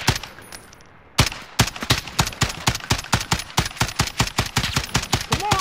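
Rapid automatic gunfire in Call of Duty: Modern Warfare video game, a sharp isolated shot followed by a long steady burst of evenly spaced rounds, close and loud.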